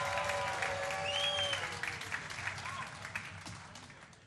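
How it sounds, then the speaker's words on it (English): A comedy club audience claps and cheers for a comedian, moderately loud applause with whoops that fades over a few seconds. "we're going to whoop, and we're going to cheer, and we're going to give it up for Tony Kinsella"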